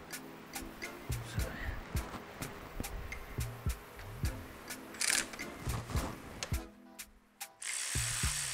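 A ratchet with a swivel socket loosens valve cover bolts on a 2009 BMW 328i xDrive, giving rapid close clicking bursts in short strokes with metallic clinks and a brief hiss near the end.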